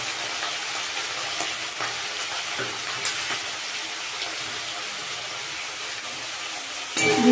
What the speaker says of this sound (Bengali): দিয়ে পেঁয়াজটা একটু ভালো করে ভাজবো।